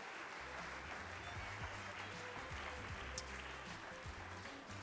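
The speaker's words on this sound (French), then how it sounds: "On peut les applaudir bien fort." An audience at a cooking contest applauds the finished candidates, a faint, steady wash of clapping continuing for several seconds with low hum and indistinct voices underneath.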